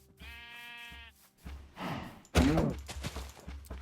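A Minecraft sheep gives a wavering, harmonic bleat up close, followed by a couple of rougher breathy bleats and a thumping hit from the game.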